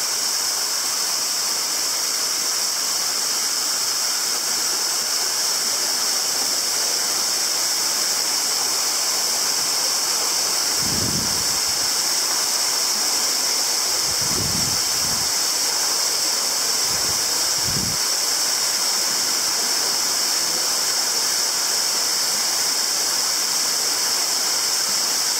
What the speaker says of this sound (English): And we are here on number three waterfall.